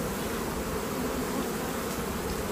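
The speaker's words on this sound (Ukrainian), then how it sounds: "Відбираємо також бджіл на аналіз." Honeybees buzz steadily and densely during a spring apiary hive inspection, a continuous close swarm drone that fills the whole moment without talk.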